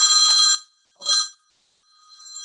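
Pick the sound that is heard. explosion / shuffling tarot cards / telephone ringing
telephone ringing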